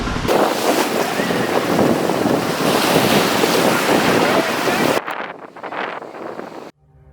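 Loud, steady sea surf roars across the shore for several seconds, with wind buffeting the microphone, then cuts abruptly to quieter rustling.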